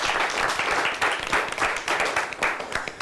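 Audience applause at a high school quiz competition, Mackinaw City versus Mt. Pleasant Sacred Heart, as a team is introduced: dense, steady clapping from a sizeable crowd that fills the whole moment, with no voices over it.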